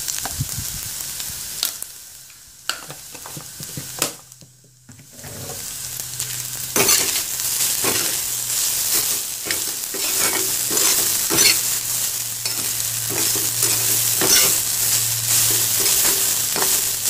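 A turmeric tadka sizzles in a pan, taken off the flame, while a spoon stirs and scrapes through it. The crackling hiss is quiet at first, briefly drops away, then runs loud and steady with repeated scraping strokes.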